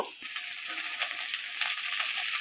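Bottle gourd leaf stalks and potatoes fry in a pan, giving a steady, close hiss of sizzling oil that holds level throughout, with no voices.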